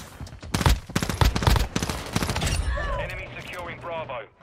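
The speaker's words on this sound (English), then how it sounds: "I'm trying to use this pistol." Pistol fire in the video game Warzone Mobile: a rapid string of loud, sharp shots in the first half, followed by game sounds and a voice.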